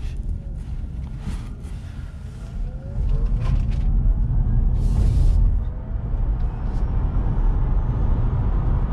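A 2019 Chevrolet Bolt EV Premier merging under acceleration, heard from inside the cabin as a steady low road and tire rumble that swells louder partway through, with no engine note and no talking.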